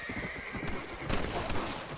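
A horse in the video game Red Dead Redemption whinnies loudly while its hooves clip-clop beneath, set among dense game sound effects and background noise.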